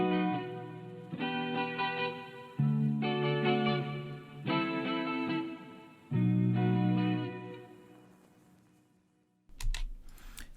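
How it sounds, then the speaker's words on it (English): Latin-style guitar strumming for a melodic drill beat rings out in bright, sustained chords, struck in a slow pattern of separate strums that swell and decay before a brief percussive burst at the close. "I'm basically doing some guitar strumming like this."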